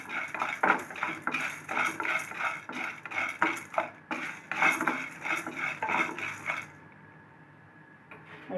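Urad dal and chana dal dry roast in a pan without oil, with rapid repeated scraping and rattling of a metal spoon against the pan, busy and close, then falling quiet near the end.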